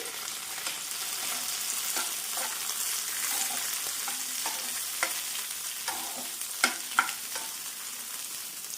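Tomatoes and green chillies cook in a pan with a soft, continuous sizzle, punctuated by a few stirring scrapes and clinks toward the end, fairly quiet and with no talk.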